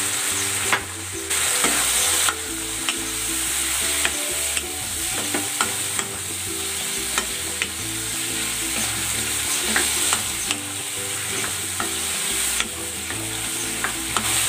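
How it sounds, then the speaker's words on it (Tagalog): Squid sautéed with soy sauce, oyster sauce and black pepper sizzles loudly in a pan, while a utensil scrapes and tosses it in regular strokes throughout, with no speech. "Gisa lang natin ito for 2 minutes para hindi kumunat yung puset."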